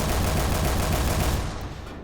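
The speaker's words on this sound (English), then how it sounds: "This is the 30 millimeter heat cannon, which kind of goes." A 30 millimeter heat cannon fires in the video game People Playground, a loud continuous burst of rapid shots lasting about a second and a half before cutting off into a fading tail.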